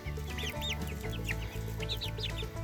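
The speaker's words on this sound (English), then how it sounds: "So we've definitely got one Seabright rooster." Young Sebright chickens, including a young rooster, clucking and chirping in a garden coop amid steady background music, with short bird calls recurring throughout.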